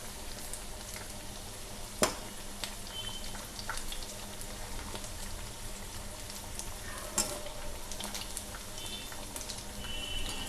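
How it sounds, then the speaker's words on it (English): Lachha chicken pakode frying in hot oil, a steady crackling sizzle with occasional louder pops, close and continuous without talk. "Occasionally we have to flip them and fry them until they gets into a golden brown"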